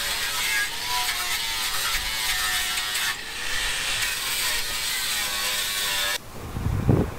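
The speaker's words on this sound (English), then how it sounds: "So first job is get the wire brush on the grinder and remove the excess rust." Angle grinder fitted with a wire brush scouring rust from a Land Rover rear door skin and lock recess, a steady loud rasping whine with slight dips, cutting off near the end into faint handling noise.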